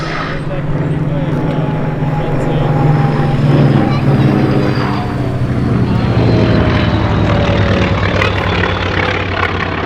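A Hawker Hurricane propeller fighter flies past at the Duxford Battle of Britain airshow, its loud, steady piston-engine drone and prop hum filling the air with a slowly shifting pitch throughout.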